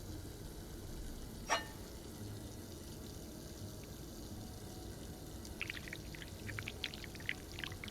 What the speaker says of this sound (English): to start, we need to pour the wax from the pot.